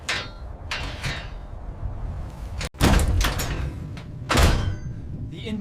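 A base door in a Mars exploration video game slides and thuds open, a series of mechanical whooshes and heavy clunks with a loud slam midway, close and prominent.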